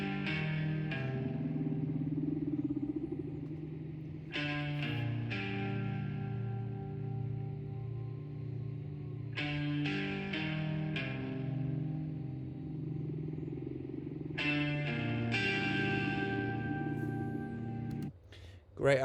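A whale-call sample opens a metal song: long, echoing tonal moans swell and fade in several drawn-out phrases, ending in a brief burst of noise.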